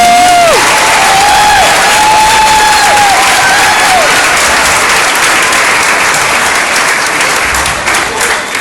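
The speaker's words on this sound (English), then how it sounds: "have one more round of applause for our second graders" A school audience applauds second graders at a Flag Day presentation, a loud, dense and sustained wash of clapping from a large crowd that runs through the whole stretch, with a few brief voices near the start.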